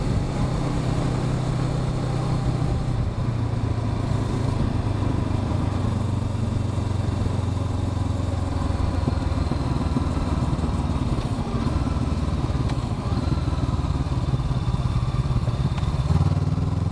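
2021 Honda CB500X parallel-twin motorcycle engine while riding, a steady loud drone with wind rush and slight shifts in pitch as speed varies, no voices.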